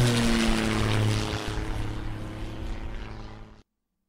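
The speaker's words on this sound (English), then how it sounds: "We hear a plane." A propeller airplane drones loudly and steadily with a low engine hum for several seconds before cutting off abruptly.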